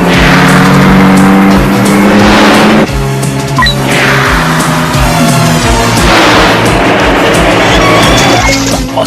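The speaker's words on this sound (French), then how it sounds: "une voiture capable de rouler sur l'eau" An animated racing car from the 1984 cartoon Pole Position roars along while driving on water, with loud, sustained engine whine and swelling whooshing passes, close and intense throughout, with no speech.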